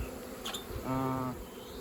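A brief, low honeybee buzz swells for a moment against quiet background hiss, like a bee passing near an apiary.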